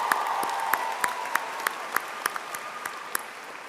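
Applause from the audience at a spring commencement ceremony for more than 900 graduates, a steady wash of clapping with sharp individual claps standing out at a regular pace, heard throughout without speech.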